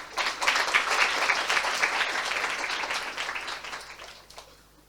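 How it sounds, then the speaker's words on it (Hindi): A church congregation applauds for children, a burst of clapping that builds quickly, holds briefly, then thins out and fades after a few seconds. "आइए बच्चों के लिए ताली बजाइए।"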